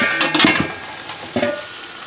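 A flank steak flipped on a grill sizzles in several short hissing bursts with scraping clatter between them, close and moderately loud, with no talking.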